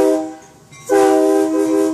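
A train horn sounds at a Franklin Park railroad days event: a brief blast, a short gap, then a louder sustained, close, chord-like blare that holds steady to the end.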